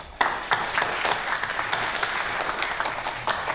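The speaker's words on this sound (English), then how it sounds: "give him a round of applause" Audience applause at a community gathering, a steady wash of many hands clapping that starts abruptly and carries on evenly throughout, fairly close and without speech over it.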